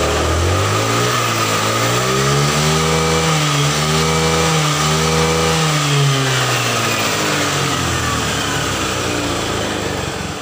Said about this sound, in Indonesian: suara mesin juga beriringan dengan gas kita